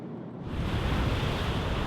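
Surf washing onto a black sand beach in Hawaii, a close, steady roar of breaking waves that swells in after a brief quieter start, with some wind buffeting the microphone.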